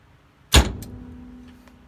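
An electric shifter actuator on a car, triggered by a relay, gives a single sharp mechanical clunk followed by a brief fading motor whir, close and alone with no talk.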